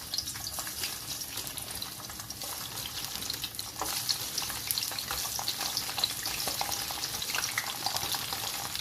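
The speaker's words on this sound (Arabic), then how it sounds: "الزيت سخن، نحط الطعمية بتاعتنا" Ta'meya (Egyptian falafel) dropped into hot oil fries with a dense, continuous crackling sizzle that holds steady and grows slightly fuller, close up with no talking.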